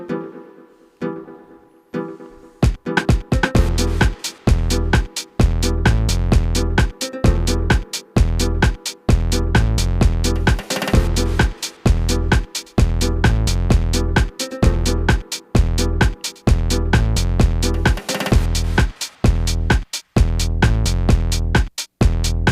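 A 130 BPM electronic beat built from one second of samples opens with a short, sparse intro, then a punchy kick and chopped melodic stabs fall into a steady, driving loop with regular brief gaps.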